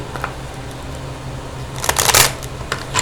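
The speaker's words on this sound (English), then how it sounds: "Let's go ahead and get a shuffle going here." Tarot cards being shuffled by hand: a soft riffle builds to a dense, loud burst of crisp card flutter near the mic, followed by a few brief fainter snaps, with no talk.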